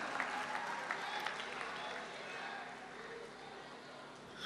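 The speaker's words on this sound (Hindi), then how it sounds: "उनका इस्तकबाल कीजिए तालियों की गूंज में" An audience at a mushaira, an Urdu poetry gathering, applauds to welcome the poet Sunil Kumar Tang, a steady, fairly faint wash of clapping heard from some distance that goes on throughout.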